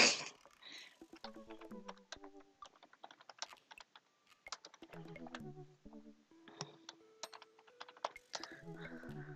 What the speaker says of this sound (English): You can probably hear me typing.